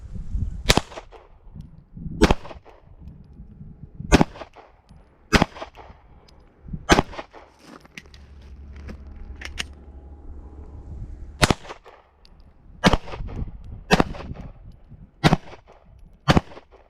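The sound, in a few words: handgun shots during law enforcement qualification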